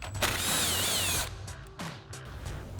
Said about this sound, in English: we'll need to remove the 10mm bolt located here on the lower side under our fender. So again, 10mm socket.